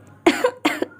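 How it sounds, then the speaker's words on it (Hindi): A person coughs twice in quick succession, two sharp close bursts about half a second apart against a quiet background. "किसी के खांसने की आवाज़ आती है"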